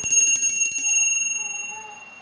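A bright bell rings several times in quick succession, then its tone lingers and slowly fades away.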